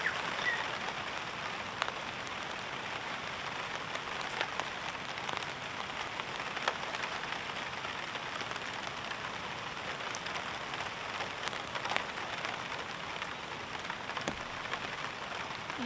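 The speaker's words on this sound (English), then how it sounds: "every time I do and I brush through the trees, all the rain falls on me." Heavy rain falling steadily on a forest campsite, a constant dense hiss of drops on leaves and surfaces with occasional louder individual drips, moderately loud and continuous with no talking.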